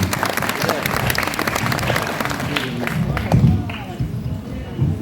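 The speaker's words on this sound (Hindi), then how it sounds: "एक बार जोरदार तालियां होनी चाहिए उदय जी के लिए।" An audience at a Bollywood theme park show in Mumbai Film City applauds a performer named Uday, dense clapping and crowd noise that fades toward the end, with some voices mixed in.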